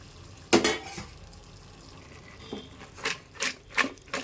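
Chicken pieces and drumstick vegetables tossed in a cooking pan, a sharp clatter followed by several rhythmic scraping, rattling bursts of pan and food, close and moderately loud with no talking.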